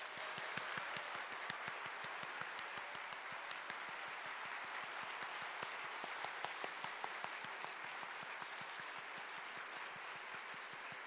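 A church congregation claps at a first-anniversary Easter Sunday service, a steady run of many hands with sharp individual claps standing out, fairly quiet and distant, with no voices over it.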